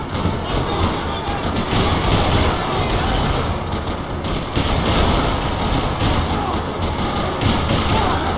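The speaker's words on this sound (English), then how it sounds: "Another parking lot rattling with gunfire." Rapid gunfire in the video game Max Payne 3 crackles in dense, overlapping bursts with heavy thumps across a parking lot, loud and continuous, like a busy firefight.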